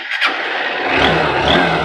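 The engine of a Honda SP 160 motorcycle with ABS fires up and settles into a loud, close idle rumble with a slight rise in revs, and no talking over it.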